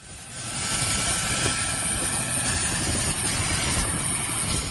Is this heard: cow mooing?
no